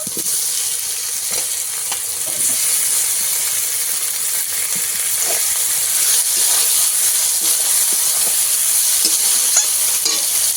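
Tomatoes added to crushed garlic frying in a pan, a loud continuous close sizzle and hiss with scattered crackles and stirring scrapes, no voices.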